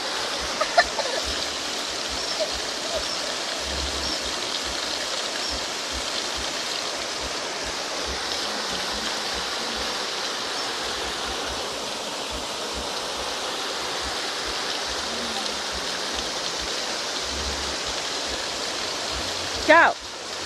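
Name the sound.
waterfall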